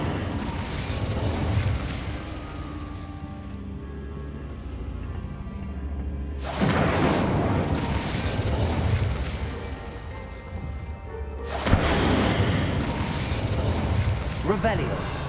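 Incendio fire spell cast in the video game Hogwarts Legacy, two loud broadband bursts of whooshing flame and explosion striking a few seconds apart over steady game ambience and music.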